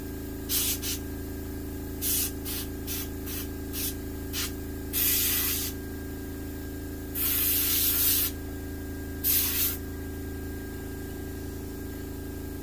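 Black spray paint hissing onto a mounted hooded merganser in a quick series of short bursts, then a few longer sustained sprays, loud and close with quiet gaps between.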